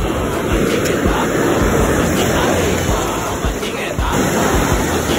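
Strong seashore wind buffets steadily with a roaring, rushing wash of surf behind it, loud and continuous throughout.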